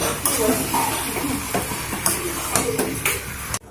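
Boiled elephant foot yam stalks hit a hot pan and fry with a steady hiss and crackle, broken by several scraping stir strokes before stopping abruptly.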